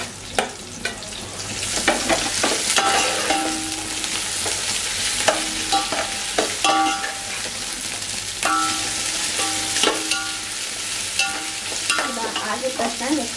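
Mint leaves frying with browned onions in a pan for village-style biryani, a continuous loud sizzle broken by repeated scraping strokes of a stirring spoon, with no talking.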